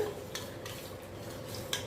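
Soft scraping and swishing of a utensil stirring thick kodo millet buttermilk porridge in a pot, with a few light clinks against the metal.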